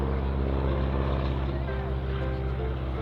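Boeing Stearman N2S-4 Kaydet biplane flying at an airshow with wing walkers on board, its radial engine giving a steady, loud, continuous drone throughout.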